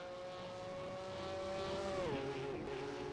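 In a racing video game, a 1958 Formula 1 car's engine drones at a steady high pitch that suddenly sags and drops off as the engine blows, with a faint underlying rumble.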